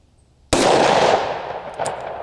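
A single close, sharp report from a Ruger SP101 small-frame magnum revolver fired at an outdoor range toward a 100-yard target, followed by a loud echoing tail that slowly fades.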